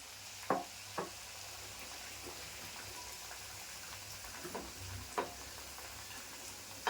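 Malpua batter fries in oil in a pan, a faint steady sizzle with a few soft taps and clinks of a utensil scattered through.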